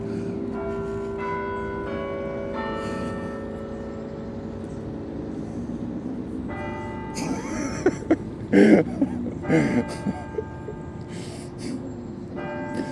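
Church bells in Kidderminster ring in a layered, sustained peal with overlapping tones, joined by a few sharp breathy noises near the end.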